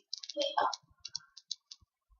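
A computer mouse clicking, several short sharp clicks in a quick irregular series, close and clear, heard after someone speaks briefly.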